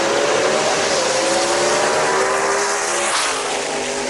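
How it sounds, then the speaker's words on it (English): Chevy-powered race cars blast down the racetrack at a Mooresville event, producing a loud, sustained engine roar whose pitch slides slightly downward as they pass. "there you hear those Chevys blasting down the racetrack"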